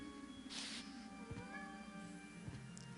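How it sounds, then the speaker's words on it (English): A pet cat yowls and meows in a room, a loud drawn-out cry followed by fainter calls over a steady background hum of game music. "I apologize if you hear my cat yelling in the background"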